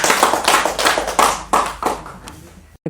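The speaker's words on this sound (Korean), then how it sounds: "하나님께 영광의 박수 드리겠습니다" A church congregation claps together during a Christmas worship service, the applause fairly close and full-bodied, loud at first and then thinning out before stopping abruptly near the end.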